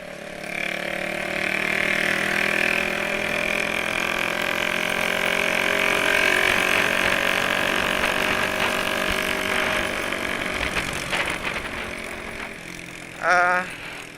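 A Yamaha MX King motorcycle engine runs steadily, a loud mid-pitched drone with a rising whine. It continues for the whole stretch, and a short burst of another sound breaks in near the end.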